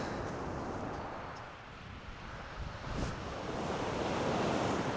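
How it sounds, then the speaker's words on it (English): Strong wind and surf roar on a shingle beach at Chesil Beach during a fishing session, a steady broadband rush of breaking waves with blustery microphone wind noise that swells toward the end. "it's really windy now"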